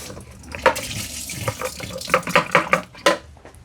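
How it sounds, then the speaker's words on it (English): Tap water runs into a sink as the dirty-water tank of a Bissell SpotBot carpet cleaner is rinsed out, with splashing and gurgling that surges in uneven bursts, close up. "Now we'll just rinse that out real quick."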